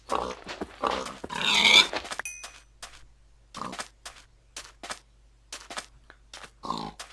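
A Minecraft pig gives a series of short, irregular grunts and oinks, close and fairly loud, scattered across a few seconds with quiet gaps between them.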